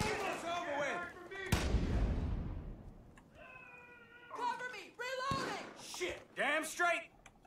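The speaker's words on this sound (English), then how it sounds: "Who's shooting at the vehicle in front of me?" Gunfire in Far Cry 5 aimed at a vehicle up ahead: a sharp blast crashes out once, then another sudden burst lands near the end, both sitting among game voices and in-game speech.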